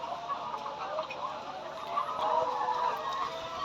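Chickens cluck faintly amid a steady background hum on a poultry farm, with scattered soft calls throughout.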